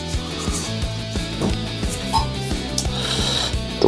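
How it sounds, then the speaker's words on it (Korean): Spoon scraping the last cookie dough together in a bowl and scooping it in, a soft rubbing scrape with small knocks under steady background music. "마지막, 마지막 긁어 모아가지고 넣어주도록 하겠습니다"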